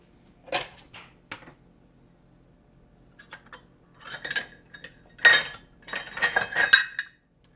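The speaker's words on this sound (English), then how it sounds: "I know I'm making a racket with my middle spoons." Metal measuring spoons clatter and clink in sharp, irregular bursts during home baking, starting sparse and then building into a cluster of rapid rattles near the end, close and fairly loud over a quiet kitchen.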